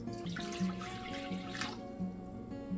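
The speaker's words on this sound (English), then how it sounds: "I usually pour the water into the bowl first and then add the starter." Water pours into a large bowl while sourdough bread dough is being started, a steady splashing rush over a continuous tonal background hum.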